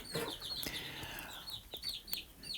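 Hens and a rooster on a Ukrainian homestead clucking and calling close by, several short overlapping bird calls scattered across a quiet background.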